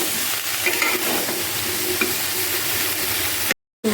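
A little water poured into vegetables frying in a pan brings a loud, close, hissing sizzle with stirring scrapes, steady until it cuts off abruptly near the end, with no speech.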